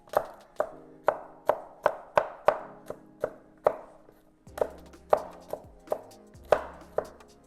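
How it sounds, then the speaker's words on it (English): Knife chopping garlic cloves on a cutting board, about six to eight cloves prepared for a prime rib rub: a steady run of sharp, close taps, roughly two per second, with a brief pause midway and no talking. "About 6 or 8 garlic cloves. I'm just going to lightly chop these"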